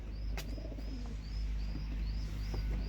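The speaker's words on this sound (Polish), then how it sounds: "To są gołębie wszystkie z tego roku, wiosenne, pierwsze młode" Soft coos of this year's young spring pigeons repeat in a steady rhythm over a low ambient hum, with a few chirps mixed in nearby.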